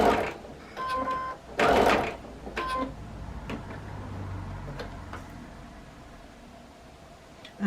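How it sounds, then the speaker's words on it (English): Sewing machine stitching quilt fabric pieces, a few brief whirring and clicking bursts up close in the first three seconds, followed by a quieter low hum. "I am going to simply sew and align it"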